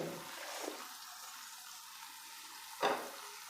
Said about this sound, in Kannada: ಈ ಥರ ನಿಧಾನಕ್ಕೆ ಫ್ರೈ ಮಾಡ್ಕೋಬೇಕು